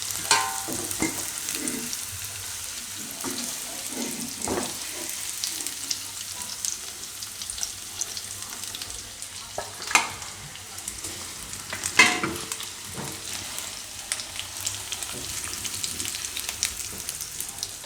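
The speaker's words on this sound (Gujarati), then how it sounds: "પનીરને આપણે આ રીતનું શેકી લેવાનું, ફેરવી ફેરવીને એકદમ સરસ થઈ જાય તેલમાં" Paneer cubes fry in hot oil while being turned, giving a continuous close sizzle with scraping and stirring clatter and a couple of louder knocks partway through.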